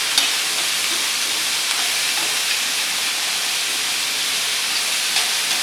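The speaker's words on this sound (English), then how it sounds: "And we'll just fry that off for maybe 3 or 4 minutes, just to soften it." Vegetables softening in a hot pan for a beef casserole give off a steady, even sizzle and hiss with no break, close and continuous, and no voices over it.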